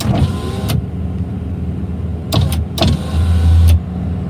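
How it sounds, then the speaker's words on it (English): Truck power windows whirring down inside a parked cab with the engine off. There are short motor pulses, a couple of clicks and a longer low hum near the end, all close and fairly loud. "I'm gonna roll down these windows."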